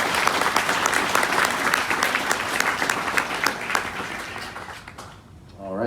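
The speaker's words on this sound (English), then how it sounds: "So a round of applause." A convention audience at a Halloween horror fan panel gives a long round of clapping. The applause is full and steady, then tapers off near the end.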